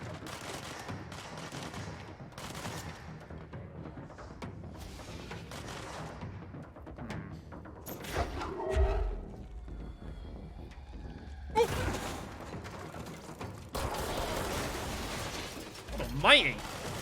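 Rapid bursts of machine gun fire and other gunshots ring out through a firefight in the game Control, dense and continuous with sharp louder blasts near the end, while a voice talks over parts of it.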